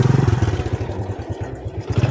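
A motorcycle engine idles close by with a steady throbbing putter, running alone without talk.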